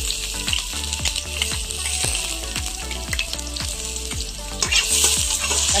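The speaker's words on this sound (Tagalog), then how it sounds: "Papulahin natin ng bahagya ang ating bawang." Garlic sautés in hot oil in a pan for sinampalukang bangus, a loud, steady sizzle broken by rhythmic scraping and stirring strokes about every half second.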